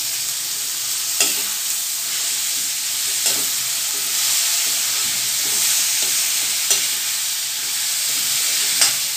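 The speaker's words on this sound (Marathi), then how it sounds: "छान मिक्स करून घ्यायची तेलामध्ये" Ghevda beans, brinjal and potato stirred in hot oil in a pan, a steady loud sizzle throughout with soft scraping strokes every couple of seconds, close up and with no voices.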